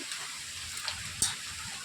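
Hail pelts down outdoors during a late-afternoon storm, a close hiss of many small ice pellets hitting surfaces, with one sharp louder tap standing out near the middle.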